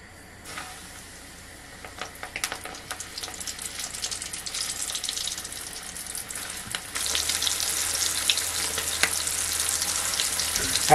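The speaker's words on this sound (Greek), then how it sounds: "Αφήνετε να τηγανιστούν καλά από τη μία μεριά" Food fries in a pan, a continuous sizzle that grows louder and brighter partway through, with faint clinks and stirring and no talk.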